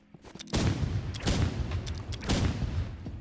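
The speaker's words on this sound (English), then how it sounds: "throw it under you, and just throw it and explode it" Thrown explosive charges detonating in the Roblox game Rivals, three loud booming bursts in quick succession with crackling tails, close and heavy, no talking.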